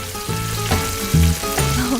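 Close, loud crackling sizzle of an egg frying in hot oil in a miniature frying pan, with bubbling pops layered over a faint tonal hum.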